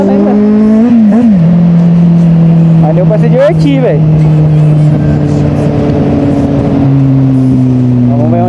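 A 2014 Kawasaki Z800 motorcycle engine revs and holds a steady, droning tone with rising and falling pitch sweeps. Someone talks loudly over the engine throughout.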